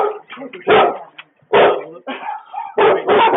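Several dogs bark in loud, close, overlapping bursts inside a house during a police entry, with a few short gaps between volleys.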